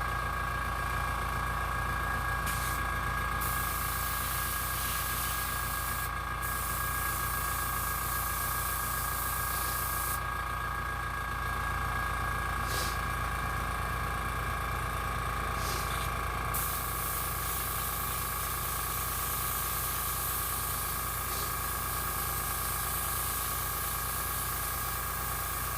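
Spray paint hisses steadily onto a Jason mask, a continuous close airy spray lasting throughout with only slight variations.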